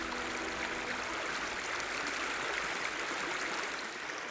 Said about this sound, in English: Only the fast-flowing streams continue their journey.